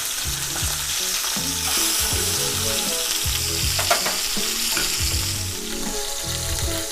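A salmon fillet sears in a hot pan after being flipped with its skin side crisped, producing a loud continuous sizzle with scraping and stirring clatter throughout.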